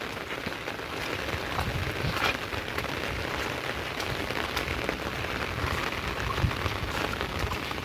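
Heavy monsoon rain pours down steadily in Badlapur, a dense hissing patter of drops striking surfaces, constant and close with no voices.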